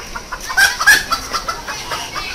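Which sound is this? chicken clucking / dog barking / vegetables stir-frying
chicken clucking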